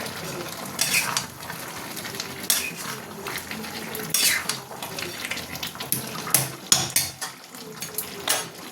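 A curry of jackfruit and prawns with garam masala just added is stirred on a gas stove, a spoon scraping through the thick mixture in repeated strokes over a steady sizzle, close and fairly loud, with no talking.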